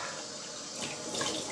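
Tap water running steadily into a sink to rinse shaving soap off after a wet shave, a short, faint, hissing splash with no talk.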